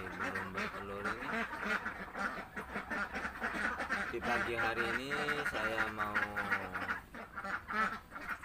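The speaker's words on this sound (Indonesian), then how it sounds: "seperti inilah kegiatanku sehari-hari merawat bebek saya yang masih belum bertelur ini" Ducks that are not yet laying quack continuously at a morning feeding on a small farm, loud and close, while someone talks over the flock throughout.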